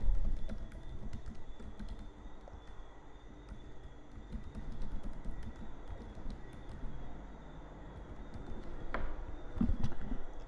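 Someone types a password on a computer keyboard, a steady run of soft close key clicks over faint room noise, with no talking.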